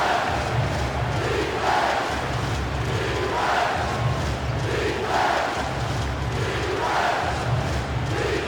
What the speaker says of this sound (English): The home crowd loves it.